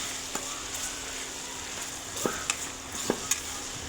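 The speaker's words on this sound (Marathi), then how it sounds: "टोमॅटो टाकून घेऊ, कारण टोमॅटो थोडेसे सॉफ्ट होऊ देत आधी" Tomatoes frying in hot oil give a quiet steady sizzle, punctuated by a few light spatula clicks and scrapes against the pan, close by and without talk.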